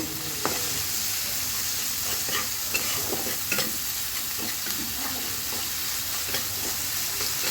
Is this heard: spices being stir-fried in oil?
yes